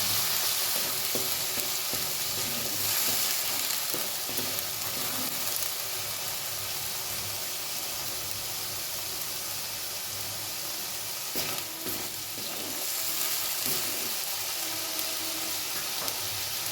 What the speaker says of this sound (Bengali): এবার মশলাগুলোকে আমি ভালো করে কষিয়ে দেবো।